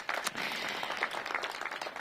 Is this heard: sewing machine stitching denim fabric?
no